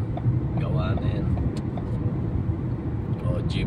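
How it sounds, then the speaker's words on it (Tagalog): A jeep rolls along the road in Riyadh, its engine and tyre rumble steady and fairly close, the broad vehicle noise filling the whole stretch with no break. "O, jeep ah."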